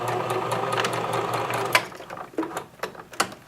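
A sewing machine stitching a waistband seam, running in a fast continuous whir, then slowing into a few separate stitch bursts and clunks as it stops and reverses, close and fairly loud.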